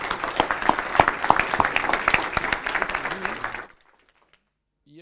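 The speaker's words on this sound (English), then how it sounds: "May I have a big applause for Kris?" A conference audience at an auditing event claps for a presenter, a crisp burst of individual hand claps for about three and a half seconds that stops abruptly into silence.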